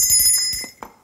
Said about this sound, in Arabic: اللي عنده الجواب هو اللي يدق الجرس